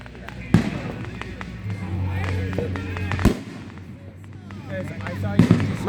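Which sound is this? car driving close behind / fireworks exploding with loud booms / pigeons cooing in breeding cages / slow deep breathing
fireworks exploding with loud booms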